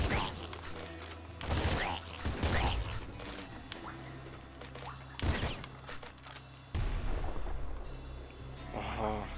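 Plasma gun firing in the Nuclear Throne video game, a run of loud bursting electronic blasts among other game effects and a steady droning background.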